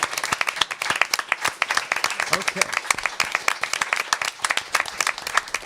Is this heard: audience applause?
yes